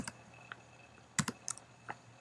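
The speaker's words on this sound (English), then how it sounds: "So I'm typing in example" Keys tap on a Mac computer keyboard in a few sparse, light clicks with pauses between them, close by and quiet, with no talking.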